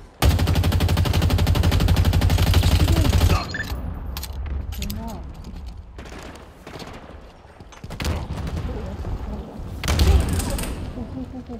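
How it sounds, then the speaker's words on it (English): Rapid sustained gunfire in Halo Infinite multiplayer, loud and dense at first, then cutting off into scattered shots and bursts amid game noise, with another loud volley near the end. "Where's the shooting coming from?"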